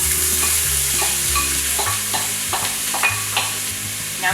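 Chopped onion sizzles steadily in the hot oil of an Instant Pot for a vegan dish, with repeated spoon-stirring scrapes and clatter close by and no talking.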